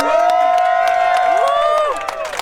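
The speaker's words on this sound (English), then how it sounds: "Round of applause to all" A crowd at a Formula D Pro-Am drift round cheers and whoops for the competitors, loud sustained shouts and scattered claps with a bright held voice rising above, near and continuous for a couple of seconds before easing.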